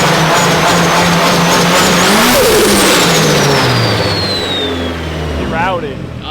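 A loud turbocharged, cammed car engine revs on a dyno with a rough, choppy idle. It rises to a screaming pull, then winds back down, with people talking over it.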